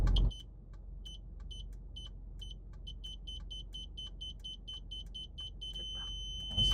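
A car's rear parking sensor gives a steady series of short, high electronic beeps at a quickening pace as the car nears a pillar, over a low engine hum, then holds a continuous tone near the end.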